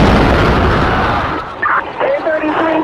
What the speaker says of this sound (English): We've had an explosion.